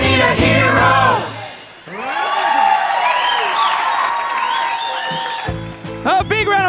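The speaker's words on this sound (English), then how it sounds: "A big round of applause, ladies and gentlemen, for all of our young heroes" Young performers in a superhero-themed stage show get loud audience applause and cheering with whoops, mixed in with bright singing and music.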